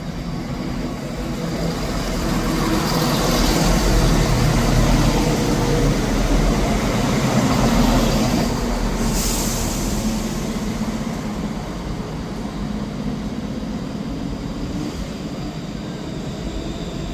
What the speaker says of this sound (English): Arriving in now is the 1015 Scotrail service to Edinburgh Waverley, which is 17401.